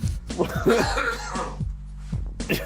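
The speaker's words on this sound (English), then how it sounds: "don't edit that cough out." A few rough coughs burst out up close, followed by another short cough after a brief pause.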